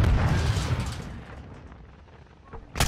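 A grenade bursts in the shooter game Modern Warfare II with a loud, close boom that rumbles and fades over about two seconds, then another sharp blast hits at the very end.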